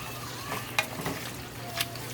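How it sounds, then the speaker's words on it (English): Worcester sausage stew with tomatoes frying in a pot, faint steady sizzle with soft stirring clicks close by. "It's actually frying while this one is ready."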